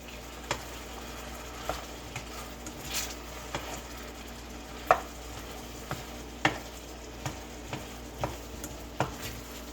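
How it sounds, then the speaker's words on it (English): Sliced apples fry in a pan while a spoon stirs them, a soft continuous sizzle broken by a dozen scraping strokes and light clinks against the pan, evenly spaced and close, with no voices. "I'm about to bring y'all over after I stir them, because you can see now that they're cooking"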